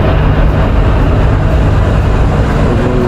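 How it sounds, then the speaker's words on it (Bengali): An Ooty toy train on the mountain railway, heard as a loud, steady rumbling roar of the moving carriages that continues without a break. "ট্রেন আস্তে আস্তে টুয়ার্ডস কুল্লু যাচ্ছে"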